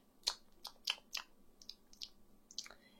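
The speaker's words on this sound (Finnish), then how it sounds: "voisitko lopettaa ton purkan mussuttamisen?" Someone chews gum in a quiet library setting, making soft, close, wet clicks and smacks. The sounds come in an irregular series of about eight small bursts, with no speech.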